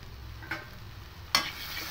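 Potato filling for singara is stir-fried in oil in a pan, with a steady low sizzle broken by two brief scraping stirs close by.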